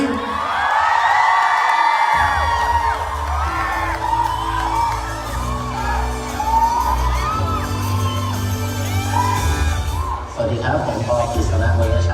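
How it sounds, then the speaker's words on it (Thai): An audience at a business talk applauds and cheers a guest speaker, with loud, sustained clapping, whoops and shouts from a large crowd filling the whole stretch before easing off near the end. "ปรบมือกับคุณกฤษณะวายฉาย"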